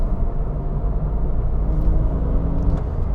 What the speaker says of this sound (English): it's got a nice little raspy 6-cylinder engine, absolute gem of a motor